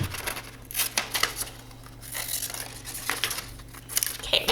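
Paper is cut out with scissors for a plant-needs foldable, giving soft snips and crinkling paper rustles in a loose, uneven rhythm under a low steady room hum, close by and fairly quiet, with no talking.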